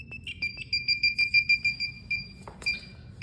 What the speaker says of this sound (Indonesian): dan juga buzzer itu ketukannya pelan